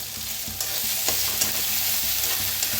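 Crushed ginger, garlic, green chilli and fresh coriander fry in a pan, with a steady, loud sizzle and frequent stirring clatter close by and no talk.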